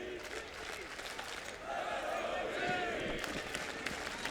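Esports arena crowd at a CS:GO quarterfinal between Luminosity and Virtus Pro at MLG Columbus, a broad roar of cheering and applause that swells midway and stays loud, with commentators talking over it.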